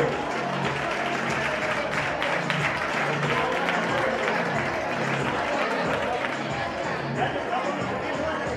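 An audience at a children's carnival costume contest applauds in a steady, dense wash of clapping and crowd noise, with voices mixed in, lasting throughout.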